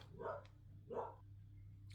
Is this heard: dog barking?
yes